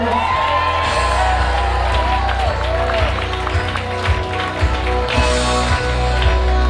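Wedding guests clap and whoop for a couple at a reception, a loud, dense crowd sound with bursts of shouting and cheering layered over music and talk.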